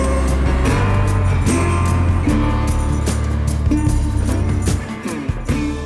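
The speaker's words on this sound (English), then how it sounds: "the sense of driving such a old-timer car" A vintage old-timer car drives across a bridge over the River Danube, its steady low engine drone close and loud throughout, with harmonic whine and passing bumps, easing off near the end.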